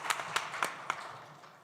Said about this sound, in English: let's give them a round of applause for their hard efforts